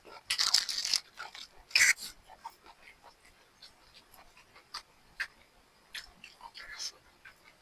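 Close, crisp crunches come from someone chewing crunchy mushrooms, irregular bursts loudest at the start and then softer bites, with quiet murmuring in between.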